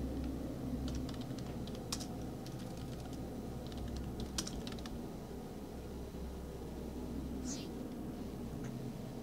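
Clicks from a computer keyboard come in short, quiet bursts as a ship name is typed in the game StarMade, set over a steady low hum with light background noise.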